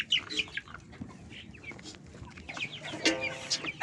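Hungry free-range village chickens cluck and squawk excitedly while being fed mixed feed, with close, busy overlapping calls and a few sharper cries near the end.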